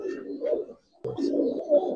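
Giribaz pigeons coo close by in two soft, throaty bursts separated by a short pause, with no voices.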